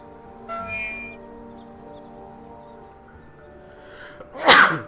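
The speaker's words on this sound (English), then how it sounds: "I just keep sneezing and sneezing today." A single loud, close sneeze bursts out near the end, after a quiet stretch of ambient game music with faint tonal chimes, with someone exploring a cemetery path in a Nancy Drew witches' tour adventure game.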